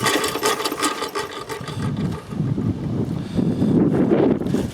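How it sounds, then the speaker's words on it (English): Strong wind buffets the microphone in an open winter setting, a steady loud rumbling roar with gusts swelling and easing throughout, no voices. "So hard with this wind."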